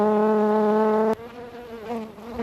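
Close, loud buzzing of honey bees swarming around Langstroth hive frames, a steady droning hum that shifts in pitch as bees pass near, with no talk.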